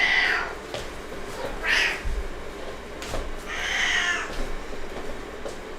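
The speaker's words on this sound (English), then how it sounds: "my cat, and I had to wake him up" Pet cat just woken from sleep, giving several fairly faint, separate meows spaced a second or so apart in a quiet room.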